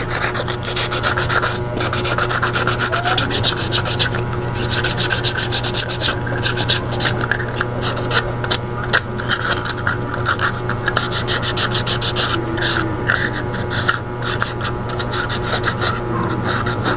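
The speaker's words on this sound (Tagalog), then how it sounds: "Gamitan lang po natin ng liha." Sandpaper scrubs the switch spring of a rice cooker being repaired, a continuous close rasping rub that carries on steadily throughout, with small knocks and handling noises.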